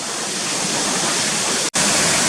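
Waterfalls at Swinner Gill, near Gunnerside in the Yorkshire Dales, cascade in a loud, steady broadband roar, heard alone and close, with one brief dropout near the end.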